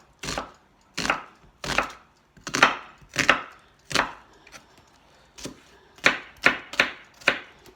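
A knife slicing a small onion on a board, about a dozen crisp chopping knocks in an uneven rhythm with a short pause midway, close and distinct with no talk.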